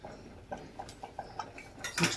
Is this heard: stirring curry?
yes